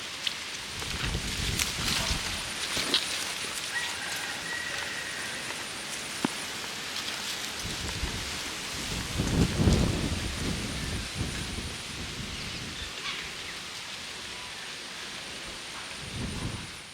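Steady rain falls outdoors with a low rumble of thunder swelling midway, a soft continuous hiss of drops on surfaces throughout, no voices.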